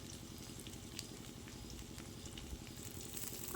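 Ginger-garlic paste frying with onions in a pan for a pumpkin, potato and mung dal dalma: a steady, dense sizzle runs throughout, with a faint rhythmic bubbling underneath and no voices.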